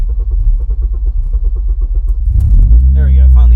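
Honda K24 engine cranking, a loud rhythmic starter chug for over two seconds, then the engine catches and fires up into a rising rumble as someone speaks over it.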